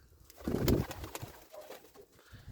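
Pigeons in a Ukrainian village loft, among them a black-headed high-flying bird, give a short, low, throaty coo near the start, followed by softer rustling and faint calls, with no talking.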